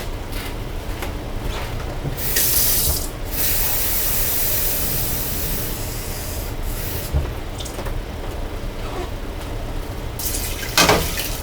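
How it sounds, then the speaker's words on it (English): Water runs and splashes steadily into a jar of rice, a continuous hissing pour with a few brief surges and a small clatter near the end, fairly close. "Then let's say about 5 cups of water."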